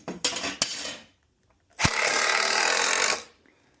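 Power drill driving a screw into a wooden aquarium stand: a couple of short clicks and taps, a pause, then one steady loud whir of about a second and a half, close up.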